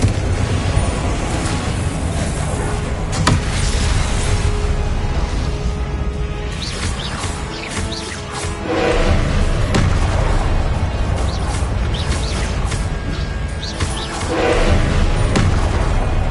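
Explosive spell blasts in the Hogwarts Legacy game, repeated loud booming detonations and whooshes over a dense, continuous battle rumble lasting around sixteen seconds, with hardly any voice audible.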